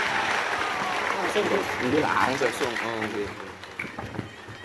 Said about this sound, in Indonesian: Tepuk tangan untuk Mas Gibran Raka Buming Raka.